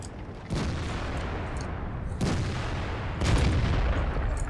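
Tank cannons fire in the World of Tanks video game, with three heavy booming shots spaced a second or two apart over a loud, constant rumble of battle noise.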